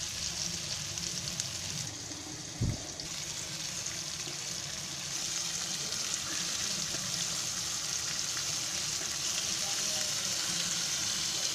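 Bombay duck fish frying in hot oil gives a steady, dense sizzle and crackle throughout, with a brief thump as a piece goes into the pan; no voices.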